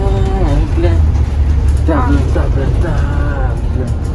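Ride aboard a city bus in Dublin, with a steady low engine rumble and road noise running throughout, fairly loud and close, while people talk over it.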